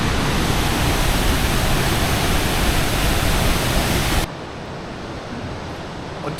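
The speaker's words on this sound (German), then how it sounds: "Und das ist jetzt der Wasserfall." A waterfall in Jasper National Park in the Alberta Rockies makes a loud, steady broadband rush of falling water. It fills the first four seconds, then drops abruptly to a softer, more distant roar.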